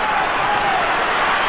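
Home crowd of 25,000 at a 1997 Optus Cup rugby league match between Newcastle and Manly: a loud, steady wash of crowd noise, cheering and clapping blended into one continuous roar.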